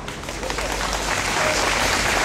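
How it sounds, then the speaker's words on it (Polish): Steady, dense applause from a crowd at a political protest rally in Kraków, continuous and fairly loud throughout. "Brawa!"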